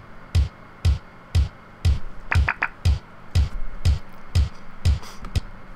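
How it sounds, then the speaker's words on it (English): A steady kick drum thumps on every quarter-note beat of a house beat in Ableton Live, about two per second, loud and evenly spaced, with a brief burst of higher percussive hits in the middle. "the 2, the 3, and the 4, you're going to have your kick beat."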